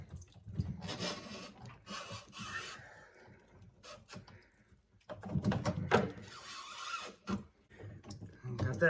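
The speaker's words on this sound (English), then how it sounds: "Let's see if I can unscrew it here with..." Unscrewing the plastic housing of a Morton whole house water filter: scraping, rubbing and creaking plastic in uneven bursts, close and moderately loud, with water noise, as someone talks over it.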